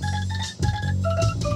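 Angklung bamboo rattles played through a speaker in a left-channel test, giving sustained shimmering tones with a short break midway; loud and close, no voices.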